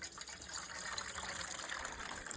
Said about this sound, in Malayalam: പാനിലേക്ക് നമുക്ക് അരിച്ചൊഴിക്കാം.